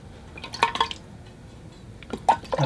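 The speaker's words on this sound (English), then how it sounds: "I rinse off my brush." A watercolour paintbrush is rinsed in a water container, giving a few brief splashing, dripping clicks in two small bursts with quiet pauses between.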